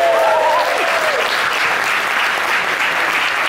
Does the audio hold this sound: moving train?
no